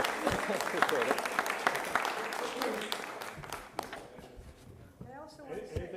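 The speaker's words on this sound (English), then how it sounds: "I want to clap for Jason's presentation." A room of people claps in brief applause after a presentation at a financial summit meeting, the dense clatter of hands fading toward the end as talking picks up over it.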